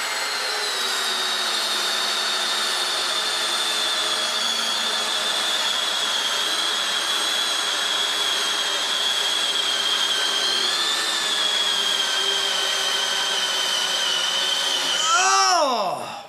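DeWalt Atomic DCD708 and Milwaukee M12 Fuel compact drill-drivers race flat out together, a steady high-pitched motor whine that holds for about fifteen seconds before both spin down abruptly at the end.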